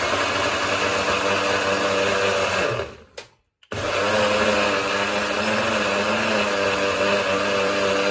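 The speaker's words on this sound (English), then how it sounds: "So first I'm blending the oats and the spinach leaves." Blender whirring through oats and spinach leaves, a loud continuous motor roar that cuts out briefly for half a second before starting again and running steadily to the end.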